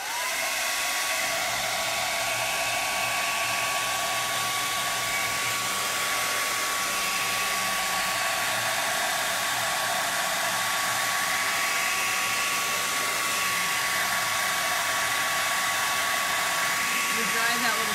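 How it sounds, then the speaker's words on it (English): Hair dryer blowing on paint on a black canvas, a loud, constant whooshing drone with a steady motor whine that runs the whole time without pause. "But I'm gonna grab a dryer. Let's dry this rooster."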